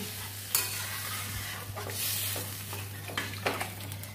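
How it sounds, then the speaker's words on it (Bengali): Cauliflower and potato curry sizzles softly in a pan as warm water goes in, with scattered stirring scrapes and light clinks over a steady low hum, fairly quiet and without talk. "পরিমাণ মতো জল দিয়ে দেবো। জলটা আমি উষ্ণ গরম দিয়েছি।"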